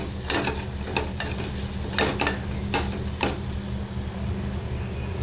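Ground masala paste sautéing in a pan for capsicum sabzi, a steady sizzle broken by several sharp scrapes and clinks of a spoon stirring against the pan, close and fairly loud, with no voices.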